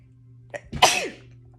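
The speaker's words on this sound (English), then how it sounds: "I had to sneeze." A single sharp sneeze, close and fairly loud, preceded by a short breath, over a low steady hum.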